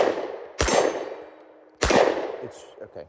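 Two loud, sharp gunshots from a video game, about a second apart, each ringing out with a metallic, clanging decay, followed by faint softer sounds.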